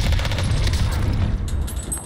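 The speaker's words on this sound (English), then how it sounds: "It's three snipers sniping at me, bro." Rapid sniper rifle fire in an online shooter game, a dense, continuous burst of loud overlapping shots and booms filling the whole moment with no voices.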